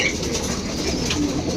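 Soft cooing and calls of homing pigeons returning from a training flight, over a steady, constant background rumble, with no talking.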